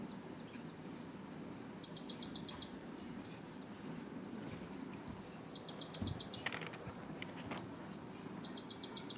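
A flock of birds eating grain and drinking water gives faint, high, rapid chirping bursts that recur every few seconds over a steady hiss of outdoor background noise.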